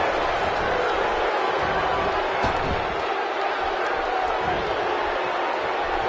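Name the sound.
arena crowd in WWE 2K17 video game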